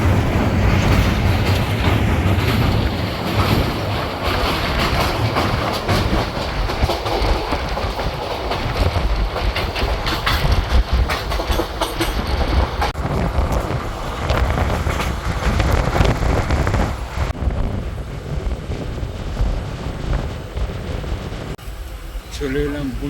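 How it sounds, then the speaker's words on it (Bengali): The Balurghat to Nabadwip Dham Express runs on after pulling out of Gangarampur station, with steady rumble, wheel clatter and wind roar heard from on board. Voices sound faintly at times beneath the noise. "আমাদের ট্রেন গঙ্গারামপুর ছেড়ে দিল 2 মিনিট দাঁড়িয়ে।"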